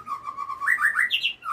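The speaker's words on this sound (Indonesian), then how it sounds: "murai batu saya yang saya mainin nanti siang" A white-rumped shama chirps alone, a short run of clear whistled notes rising into quick higher tweets, close and fairly faint.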